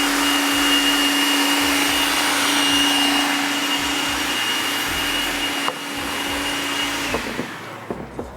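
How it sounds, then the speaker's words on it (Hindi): A kitchen blender whirs steadily while blending a fruit and vegetable smoothie, a loud continuous motor drone that runs for about seven seconds, then stops, with a few clunks after. "सही है ये अच्छी तरह ब्लेंड हो जाए ना"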